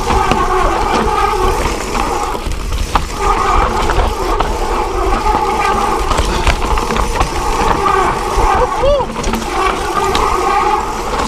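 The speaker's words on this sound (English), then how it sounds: "Sorry about the brake noise." Mountain bike brakes squealing on a forest trail at Glentress, a brief high squeal near the end over constant rolling tyre and wind rumble, close and fairly loud.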